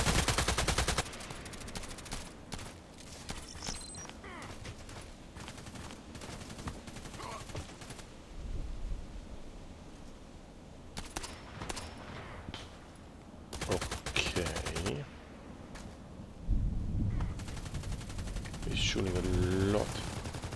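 Gunfire in a tactical shooter game during a sniper rifle task, with repeated rapid bursts and single shots scattered across the stretch, loud at moments and quieter between, with speech heard along with the shooting.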